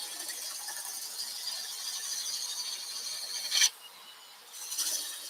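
A draw knife or roughing gouge pulls along wood in a steady, close rasping scrape, with a sharp catch near the end, a short pause, then another brief stroke.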